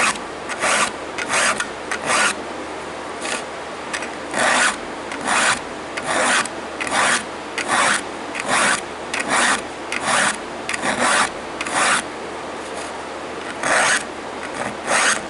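Steady rhythmic rasping of a hand file sharpening an unsharpened chainsaw chain, quick back-and-forth strokes repeating evenly throughout, close and moderately loud.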